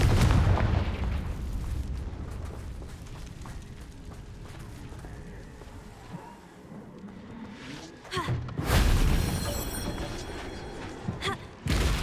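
A Confringo fire-blast spell explodes in the Hogwarts Legacy video game on PS4, with booming bursts over a busy rumbling game soundscape and a sharp, loud blast near the end.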